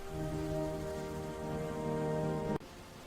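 Steady rain pours down on a surface with a constant hiss, then cuts off abruptly near the end.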